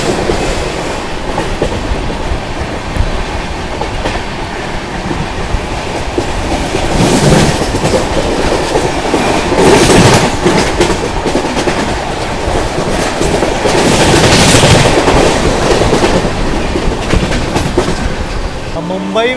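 The 22222 CR Rajdhani Express passenger train runs at high speed with loud, continuous rumbling and rhythmic clickety-clack of wheels over rail joints, swelling in waves as coaches pass close by.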